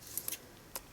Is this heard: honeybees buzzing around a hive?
no